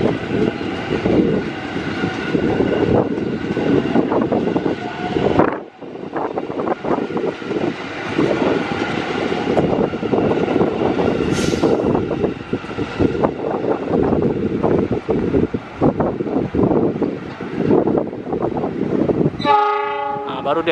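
An Indonesian CC206 diesel locomotive stands held at a signal just outside Jatinegara station, its engine rumbling loudly and steadily with a break in the middle. A short horn blast sounds near the end, and wind buffets the microphone.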